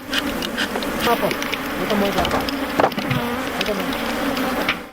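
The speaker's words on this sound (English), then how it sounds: "thousands more bees come out to defend them" A loud, dense buzzing of a defensive honey bee swarm fills the air continuously and close by, with occasional faint knocks underneath.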